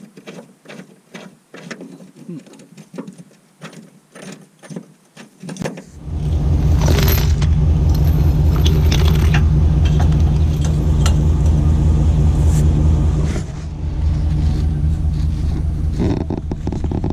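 A pickup truck engine starts after some clanking mechanical taps and then runs loud and steady, a heavy low rumble that dips briefly before carrying on, at a tide-swept Alaska shore where a salmon fishing boat is to be hauled up.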